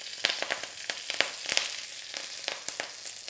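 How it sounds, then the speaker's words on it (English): Ginger and spring onion chunks sear in a very hot wok, a continuous hissing fry broken by sharp, rapid crackles and pops, fairly close and loud. "So we're going to sear your ginger and spring onion chunks first."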